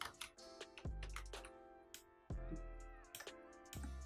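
Computer mouse clicks while marking points in video editing software, a few sharp close clicks and taps scattered over a tonal musical background with no speech.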